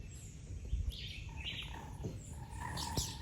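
Birds squabbling at Rockland bird sanctuary in Jamaica, sharp chirps and scratchy calls overlapping at close range over a steady background hiss.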